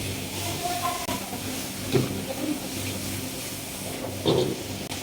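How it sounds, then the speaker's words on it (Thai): Mee goreng mamak yellow noodles stir-fried in a wok with dark soy sauce and fish sauce: a steady, close sizzling hiss with a couple of brief utensil clatters, no talking. "จากนั้นเอาไปผัดเลยนะครับ"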